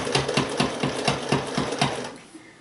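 A 42-year-old sewing machine stitching double-sided curtains runs in a rapid, even rhythmic clatter of needle strokes, close and loud, then trails off at the end.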